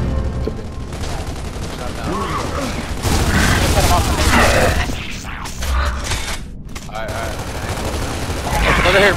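Rapid bursts of gunfire and explosions in a competitive online shooter tournament match, loud and layered, with players calling out over the shots.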